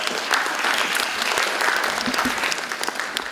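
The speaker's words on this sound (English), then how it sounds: "Round of applause." Steady applause from a crowd, dense clapping filling the whole moment at an even, fairly loud level.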